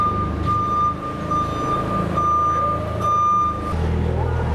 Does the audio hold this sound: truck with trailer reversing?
yes